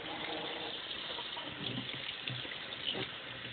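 Spoons rinsed under a running kitchen tap, a steady close gush of water with faint clinks of metal and a low voice murmuring briefly underneath.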